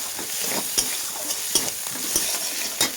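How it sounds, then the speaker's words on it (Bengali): Spice paste stirred and fried in a pan for a rohu fish curry with potato and drumsticks, a steady sizzle broken by repeated scraping strokes of the spoon, close and with no talk. "ভালোভাবে মশলাটা এইভাবে নাড়াচাড়া করে ভেজে নিতে হবে।"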